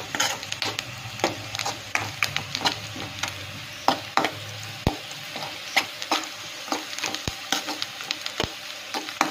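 Prawns seasoned with salt and chili powder fry in a pan, a continuous close sizzle broken by repeated scraping and knocking of a spoon stirring them, with a few sharp taps against the pan.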